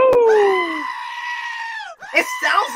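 A loud, close goat scream played as a sound effect, a sustained shrill yell lasting well over a second, followed by people talking and laughing right after it.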